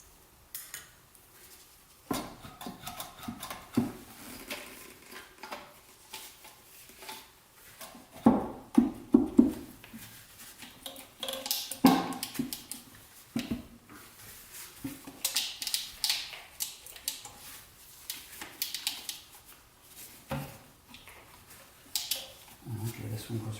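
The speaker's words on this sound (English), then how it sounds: "You guys don't need to watch me take the screws out." Screws are taken out of the intake plenum of a C4 Corvette ZR-1, heard as irregular metallic clinks, taps and tool handling noises, close and fairly loud, with scattered bursts and pauses.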